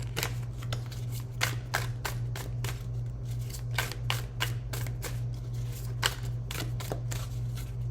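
Tarot cards shuffled by hand in a run of quick, crisp riffling bursts over a steady low hum, close and fairly quiet, with no talk.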